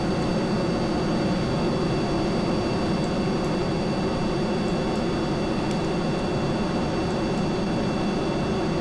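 A spaceplane in Kerbal Space Program takes off heavily loaded, its engines holding a steady, loud, broadband roar with a faint whine throughout and no talking.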